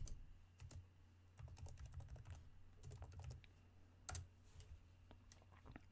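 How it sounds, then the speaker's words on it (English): Keys clatter on a computer keyboard as someone types a single word, a quick run of crisp clicks in short bursts with brief pauses, close and fairly quiet over a low hum. "Please type here calendar."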